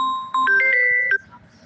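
A phone's incoming-call ringtone plays as a short, bright electronic melody of stepped tones, loud and close, with no talking over it.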